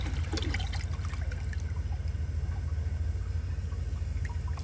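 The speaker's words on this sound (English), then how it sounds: "I'm just going to flush it again, press and release with the rest of the water in the tank" American Standard Townsend Vormax toilet flushing with the remaining tank water, a steady low rush and trickle of water draining through the bowl, close and continuous without any voices.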